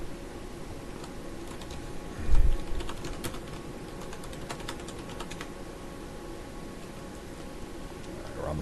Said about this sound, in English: I'm staring at the floor typing.